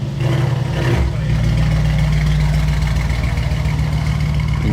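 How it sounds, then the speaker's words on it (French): A Mansory-tuned supercar engine at the Top Marques Monaco show rumbles steadily nearby, with a brief blip early on before settling into a deep, loud, continuous idle-like drone. "On a bien entendu le bruit du moteur."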